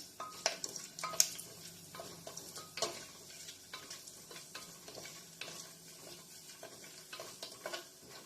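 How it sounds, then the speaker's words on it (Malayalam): Bay leaves and cardamom stirred in hot frying oil for a Kerala-style veg kurma, with soft crackling sizzle and repeated scraping and clinks of a utensil in the pan, close and fairly quiet, no talking. "ബേ ലീവ്സും ഏലക്ക, എന്നിട്ടൊന്ന് ഇളക്കി കൊടുക്കുവാണ്."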